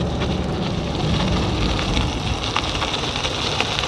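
A Varstrom 500W front geared hub motor e-bike climbs a steep uphill at full throttle on pedal assist 5, heard as a dense, steady roar of wind and road noise, loud and close throughout.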